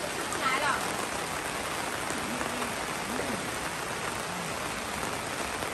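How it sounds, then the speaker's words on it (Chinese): Heavy rain pours down outside, a dense, steady roar of drops hitting surfaces, loud and continuous, with faint voices talking under it. "这里都是在下雨、下雨、下大雨的，你看。"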